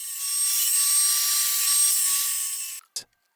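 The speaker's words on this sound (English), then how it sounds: "A quick grind will smoothen any rough edges, leaving us with beautiful concrete lotus leaves" A grinder smooths the rough edges of cast concrete lotus leaves, a loud steady high-pitched whine with gritty abrasive hiss that holds for nearly three seconds, then cuts off with a brief knock.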